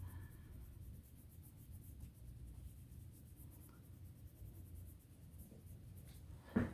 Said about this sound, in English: I'm going to go back with my medium red and I'm going to fill in some more around here.